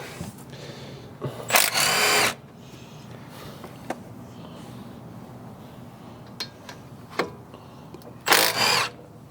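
A power tool works loose the brake caliper slide bolts on a 2002 Mitsubishi Galant, two loud, short whirring bursts separated by quiet garage handling clicks and clanks, up close.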